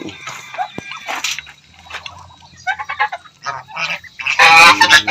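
Ducks and chickens in their pens call near the listener, honks and squawks scattered through the clip with a loud burst of clucking and quacking at the end.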